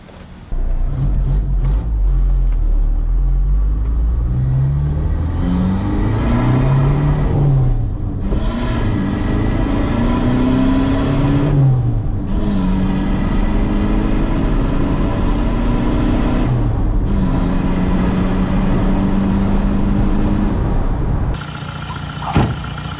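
A TDI diesel pickup engine revs loudly and close, rising and falling through several long sustained pulls before cutting off abruptly near the end.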